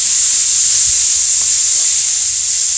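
Onion and capsicum fry in a pan over a medium flame, giving a steady, loud, close sizzle with a constant hiss and no voices.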